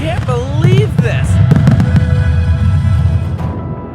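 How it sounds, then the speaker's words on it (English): Fireworks burst repeatedly during a large fireworks competition display, with loud booms and crackles rolling one after another, and excited voices heard between and over the explosions. "This is the longest fireworks show I've ever seen"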